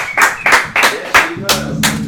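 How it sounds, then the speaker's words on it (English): A studio audience on a music TV show claps for a band in a handful of loud, separate, evenly spaced claps close by, with a voice and some tonal sound coming in near the end. "Everybody, studio audience, clap for these amazing people"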